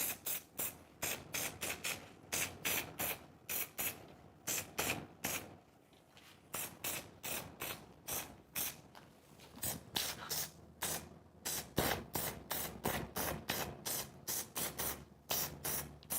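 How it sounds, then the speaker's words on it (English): A can of spray adhesive hisses onto fabric in many short, sharp bursts, one after another with brief pauses, close and fairly quiet. "I'm going to spray it on the fabric from now on, not the foam"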